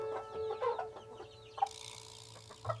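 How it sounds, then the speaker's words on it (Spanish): A naked neck hen clucks in short, close calls with a few sharper notes, faint and alone against a low background hum. "Esta gallina es una cogote pelado."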